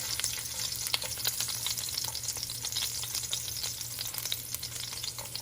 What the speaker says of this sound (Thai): เราจะผัดไฟแรงนะคะ ใส่กระเทียมลงไปค่ะ